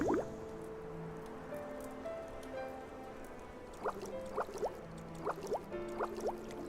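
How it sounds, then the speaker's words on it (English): Bubbling Mock Storm mount from Final Fantasy XIV, with soft watery blips and rising bubble pops scattered lightly at first and then coming in a quick cluster near the end, faint and close, over a quiet tonal backdrop. "It makes bubbly noises when it's in the air."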